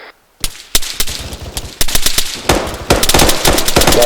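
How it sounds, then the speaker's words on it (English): Machine gun fire in a military attack-and-defense drill, with sharp bursts cracking out after a brief quiet start, then repeated rapid volleys growing denser and louder, some overlapping, with no talk. "Machine gun fire coming from 20 degrees of our position."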